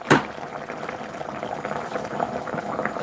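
Water bubbles at a rolling boil in a pot, a steady close simmering gurgle with a brief splash at the start.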